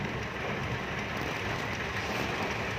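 A downpour in a strong windy storm hisses and roars evenly from start to finish, a thick constant wash of water with no talking on top.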